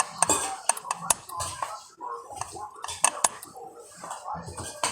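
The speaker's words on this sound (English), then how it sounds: "Want to give this a good stir. Get everything well incorporated." A utensil stirs peach cobbler mixture in a bowl, giving repeated scraping and clinking knocks against the sides at an uneven rhythm, close and moderately loud.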